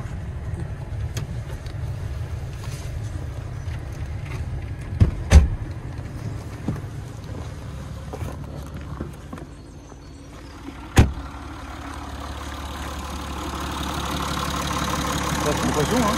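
A Citroën C6 running at idle, a low steady engine hum throughout with a couple of brief knocks or clunks and a slight rise in level near the end.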